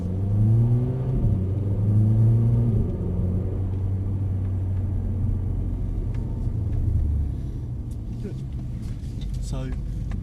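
A car on a cone-marked track during a driving lesson revs up at the start, then settles into a steady engine rumble while two people talk over it.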